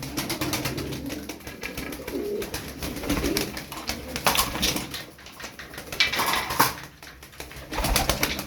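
Crested tumbler pigeons coo repeatedly in low, throaty calls, with occasional wing flutters and clattering nearby; no one speaks.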